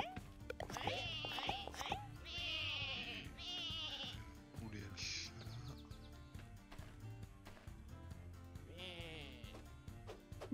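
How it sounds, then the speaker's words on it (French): Cartoonish sheep bleat repeatedly in the video game Lumberhill, several bursts of wavering bleats close and clear, mixed with game music and someone talking over them. "Manque un mouton, encore."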